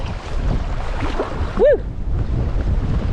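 Strong wind blowing over a river in Patagonia, a steady broadband rush and buffeting on the microphone throughout, with a brief whooping voice in the middle.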